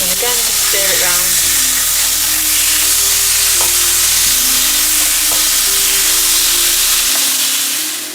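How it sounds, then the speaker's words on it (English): Marinated chicken fries steadily in a pan for a chicken tikka masala, a loud, continuous sizzle and crackle with a few stirring scrapes throughout, and no voices. "While your chicken is frying off"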